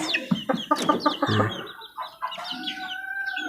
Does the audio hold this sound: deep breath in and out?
no